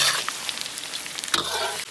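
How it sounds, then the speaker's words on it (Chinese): Star anise, scallion and ginger sizzle and crackle steadily in a hot wok while being stirred, with a constant close frying hiss and brief scraping accents, no voices. "下入大料，葱姜，把大料炒出香味"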